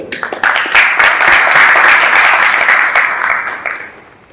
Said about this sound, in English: I think a big round of applause for yourself